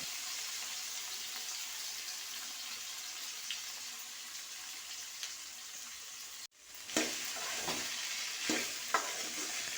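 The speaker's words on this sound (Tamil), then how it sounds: "இப்போ வாழைக்காயை போட்டு நல்லா கிளறி விடுங்க." Raw plantain pieces sizzle steadily as they fry in a pan, stirred with a spoon; a brief gap in the sizzle midway gives way to louder frying and scraping stirs, with no voices.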